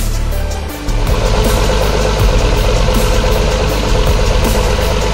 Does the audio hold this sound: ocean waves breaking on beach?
no